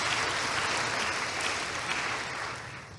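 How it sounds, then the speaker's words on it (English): Audience applause fills a hall at a national conference, a dense steady clapping from many hands that carries on for the full stretch and tapers slightly at the end, with no speech over it. "let's clap and congratulate ourselves"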